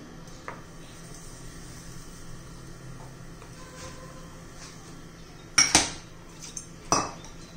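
Green garlic batter made with garlic greens, coriander, green chilli and garlic paste is stirred in a metal pot, with faint scraping and then two sharp clanks of a spoon against the rim near the end.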